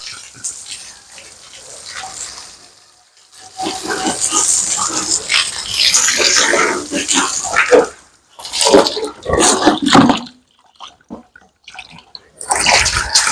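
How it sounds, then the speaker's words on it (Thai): A pump-pressure water hose hisses and splashes while washing a pig pen, spraying in bursts with gaps between, as pigs grunt and a voice speaks now and then. "แล้วเราก็ใช้ปั๊ม ในการ ใช้แรงดันปั๊มในการมาล้างเล้าหมูนะคะ"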